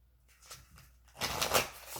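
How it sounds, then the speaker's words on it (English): Tarot cards are shuffled during a reading, starting with soft scattered riffles that build into a louder, dense flurry of card flicks, close and without talk. "I know this was a really big shuffle."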